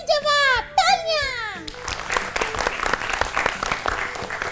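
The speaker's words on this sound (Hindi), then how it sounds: "तालियां" Children in a classroom quiz show clap together after a correct answer. Lively, uneven hand claps with some crowd noise follow an opening stretch of high, sung-like voices.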